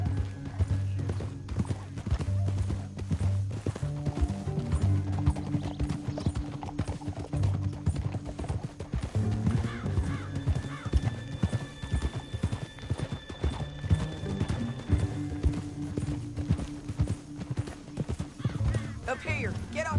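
Horse hooves clip-clop steadily in Red Dead Redemption 2 over game music and voices, with occasional neighing; footfalls stay fairly close and even throughout.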